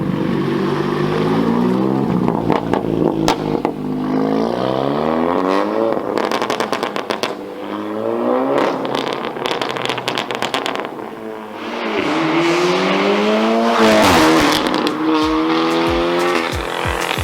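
Old BMW 5 Series fitted with a 2JZ engine revs hard through repeated accelerations, the loud engine note rising and falling with gear changes, heard close from inside the car.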